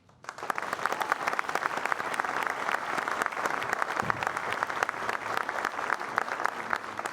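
An audience at a civic New Year's greetings event in Voiron claps steadily and densely in a hall, starting abruptly and holding a sustained, even roar of applause.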